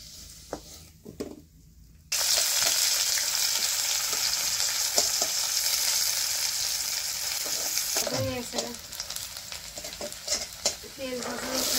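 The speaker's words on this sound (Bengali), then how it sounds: "দেখো একটু লাল লাল করে ভাজা করছি" Potatoes fry in oil in a home kitchen, a loud continuous sizzle that starts abruptly and carries on with stirring scrapes, while someone talks over it toward the end.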